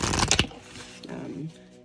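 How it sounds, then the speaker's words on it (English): Tarot cards riffled and shuffled by hand, a quick burst of papery flutter at the start followed by softer handling as someone talks. "Just kind of shuffle your cards,"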